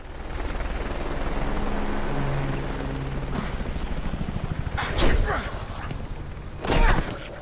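A helicopter attack in the video game Deadlight: a low, droning rotor hum runs throughout, broken by two loud, sharp bursts of gunfire-like blasts near the end.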